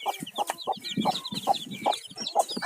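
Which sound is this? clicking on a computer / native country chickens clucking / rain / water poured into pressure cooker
native country chickens clucking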